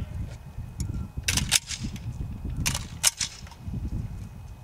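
Rifle shots fired at targets on a military training range in January, a few sharp reports spaced irregularly over steady low outdoor rumble.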